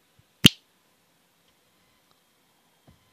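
A single sharp finger snap rings out near and crisp in quiet surroundings, followed by near silence with only a faint soft tap later on.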